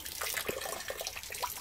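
Mains water trickles steadily through a heating system built into a Holden Rodeo turbo ute spa, with a continuous soft splashing and gurgling flow at close range.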